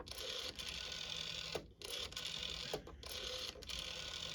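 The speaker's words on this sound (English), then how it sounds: "I did spin the dial once more past the stop, and it feels a little bit better dialing it" A rotary dial on a 1973 ITT Hellas telephone with a Face Standard dial spins and whirs back in short repeated runs, close and fairly quiet, with brief gaps between turns.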